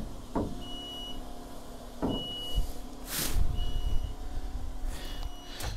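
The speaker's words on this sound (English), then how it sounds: "then actually you open up the sunroof here" Sunroof on a Jeanneau Leader 36 motor boat opening: a low electric motor whirr with several short, thin tonal beeps and intermittent clunks and rattles, close by in a quiet cockpit.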